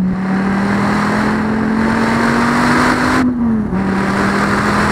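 SRT Viper GTS engine accelerating hard, a loud, steady, deep exhaust drone that climbs slowly in pitch, briefly dips as if shifting, then carries on strong, with no talking.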